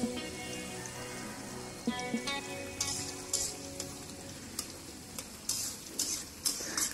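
Chopped onion, garlic and chili being stirred in a pan while cooking Malabar spinach, a soft sizzle under a run of sharp spatula scrapes and taps at an irregular rhythm, close and fairly quiet, no speech.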